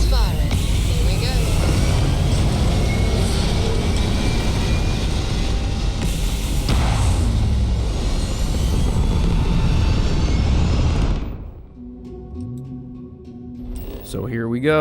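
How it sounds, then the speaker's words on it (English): Spaceship engines in the video game Starfield fire at takeoff with a loud, dense roar that rumbles steadily for about eleven seconds, then cuts off abruptly into quieter tonal game sounds. "Engines firing. Here we go."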